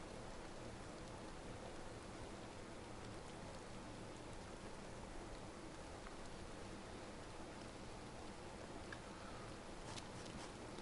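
Steady rain falls in the DayZ video game, a dense continuous hiss of drops on surfaces with no voices.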